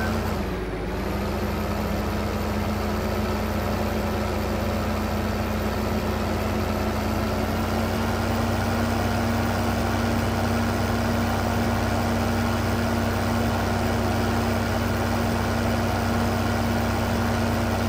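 A Farming Simulator 2015 articulated tractor engine idles with a steady, unchanging mechanical drone and hum, continuous throughout.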